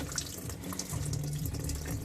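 Coolant water running steadily from an opened bleed screw beneath a 2.0-litre turbo Vauxhall Astra, a continuous close splashing flow into a bucket, no talking.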